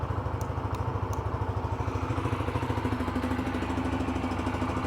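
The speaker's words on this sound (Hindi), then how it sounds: "अब बाइक को स्टार्ट कर लेते हैं। इंजन साउंड सुन लेते हैं, एग्जॉस्ट नोट सुन लेते हैं।" A Bajaj Freedom 125 CNG motorcycle engine idles close by with a steady, throbbing exhaust beat and mechanical clatter, holding an even rhythm throughout.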